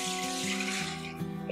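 Coconut water pours through a handheld strainer in a steady close trickle and splash, continuous for a moment with no talking.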